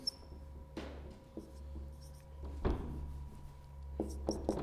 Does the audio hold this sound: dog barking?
no